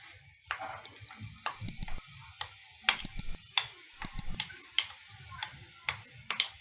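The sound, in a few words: onion added to hot oil and ghee, sizzling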